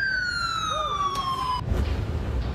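Fire truck siren racing to a cafe bar fire in Hanoi, Vietnam, a loud descending wail that cuts off partway, followed by rumbling street traffic noise.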